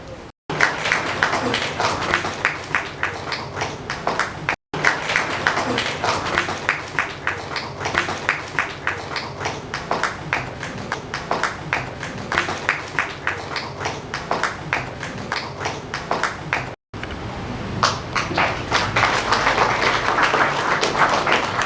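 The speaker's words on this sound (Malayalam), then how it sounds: "കയ്യടിക്ക് വലിയ ശബ്ദമില്ല" An audience claps steadily at a book-release event for a poetry collection. Rapid, dense, even applause continues for about twenty seconds, with two very brief breaks, and there is no speech over it.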